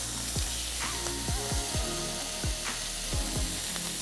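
Veal sweetbreads searing in a hot pan give a steady sizzle, with a few sharp knocks and scrapes of cooking tools against the pan, and no talk.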